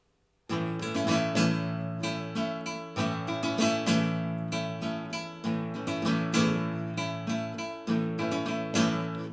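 Flamenco rumba guitar strumming the melody of This Old Man at full speed, driving bright rhythmic strums with accented upstrokes and percussive golpe hits, close and continuous without talk.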